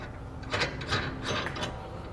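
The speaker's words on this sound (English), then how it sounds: "we'll take one of our flange nuts, and carefully thread it onto the carriage bolt" A flange nut is threaded by hand onto a carriage bolt while a trailer hitch receiver is fitted to a Ram 1500 Classic, giving faint, close metallic scraping and rubbing in a few short bursts.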